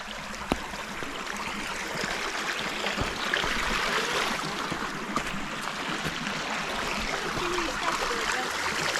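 A shallow, roughly foot-deep stream flows steadily in a wooded state park valley, a continuous close rush of trickling, babbling water with no pauses from start to end.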